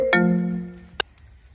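A phone rings in a Hindi comedy sketch: one sustained electronic tone that holds for nearly a second and then cuts off with a sharp click, followed by quiet.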